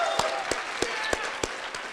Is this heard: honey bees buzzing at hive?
no